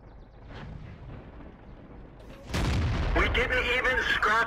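A Type 59 tank cannon fires in a tank video game, a sudden heavy boom that rolls into a sustained rumble and crackle after low engine drone and game ambience.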